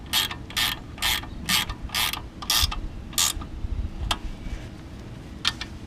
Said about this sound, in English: I'm just going to snug down these bolts a little.